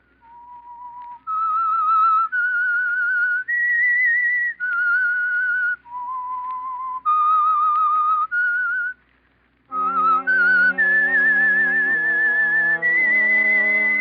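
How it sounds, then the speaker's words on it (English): The whistled theme tune of The Whistler radio program, sponsored by Signal Oil: a lone, clear whistle carries the melody in sustained notes, then a fuller accompaniment swells beneath it for the final phrases. "That whistle is your signal for the Signal Oil Program"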